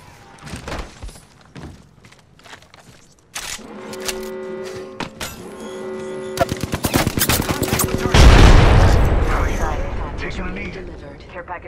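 Gunfire in Apex Legends: scattered single shots at first, then rapid automatic bursts with ringing mechanical tones, ending in a loud booming blast and rumbling tail, all close and punchy.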